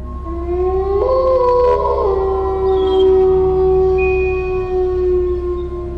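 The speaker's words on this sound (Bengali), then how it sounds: "সেই সাথে শেয়ালের ডাক" Jackals howling as a cartoon sound effect in a Bengali horror story: long, loud, sustained wails with overlapping rising and bending tones, steady throughout with no talk.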